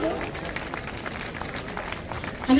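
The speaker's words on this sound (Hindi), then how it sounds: "जोरदार ताली बजाएंगे हम लोग" Crowd applause welcoming guests at a Christian festival gathering, a steady wash of clapping throughout, with a voice speaking over it.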